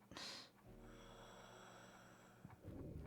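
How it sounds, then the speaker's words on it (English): Slow, heavy breathing in Alan Wake Remastered, drawn out with a sharp breathy onset and a low steady wheeze underneath, fairly quiet and heard alone without talk. "what is that breathing sound?"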